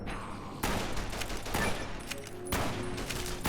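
Rapid gunfire in the modded video game Fallout: New Vegas, sustained loud close bursts with a sharp onset, a brief letup and a second volley, no voices.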